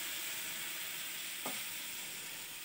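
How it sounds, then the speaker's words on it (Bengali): Potatoes fry in a pan with Bengali five-spice, a steady close sizzle throughout broken once by a short scrape of a stirring spoon. "5 ফোড়ন দিয়ে এবার আমি আলুটাকে এর মধ্যে হালকা একটু ভাজা ভাজা করে নিলাম।"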